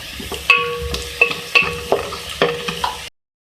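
Whole spices (bay leaf, black cardamom, cinnamon) crackle and sizzle in hot mustard oil, stirred with sharp clinks of a spoon against the pan several times, close up, with no talking.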